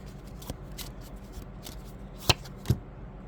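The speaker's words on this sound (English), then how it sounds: "let's pull a few more cards" A deck of cards is handled and shuffled, with soft riffling and a few sharp snaps as cards are pulled out, fairly quiet and close, with no talking.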